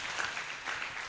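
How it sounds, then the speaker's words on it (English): A crowd claps continuously at a livestreamed project presentation in Uganda, a brief, fairly faint burst of even applause after a speaker finishes. "Since this is the last round of applause, let's do it again."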